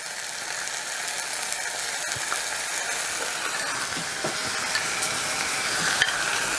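Ground pepper paste stirred into onions frying in a pan for buttermilk gravy, a steady close sizzle with scraping spoon strokes throughout and no talking.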